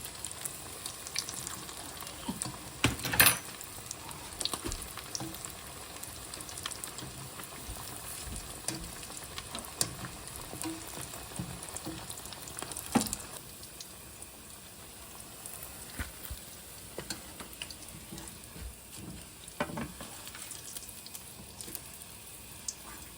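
Cutlets fry in hot oil with a steady, crackling sizzle and scattered popping bursts, moderately loud and near, with no voices.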